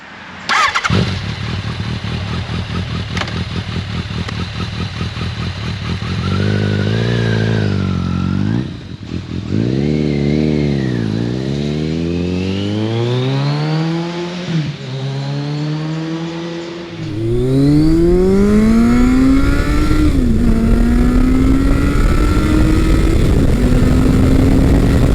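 A naked motorcycle's 1200cc engine starts and is revved repeatedly, pitch climbing and falling in loud bursts before settling into a rising, throaty rev.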